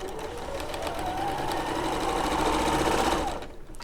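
A sewing machine runs in one steady, loud, continuous burst while stitching patchwork blocks for McCoy Oxford trousers, with no talk over it.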